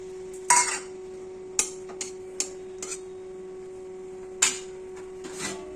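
A metal cooking pot of tomatoes and drumsticks clinks as its lid is set on, giving a few sharp, close metallic taps and clatters over a steady electric hum.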